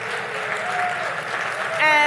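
Summit audience giving another round of applause for the President of Malawi, a soft, steady patter of clapping with a voice talking over it near the end.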